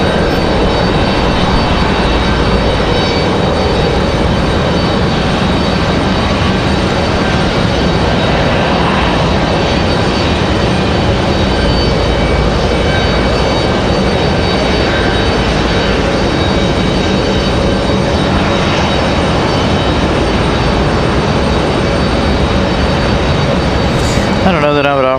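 A business jet taxis at Raleigh-Durham International Airport, a steady loud engine roar and whine that holds for the full stretch, with a person talking over it.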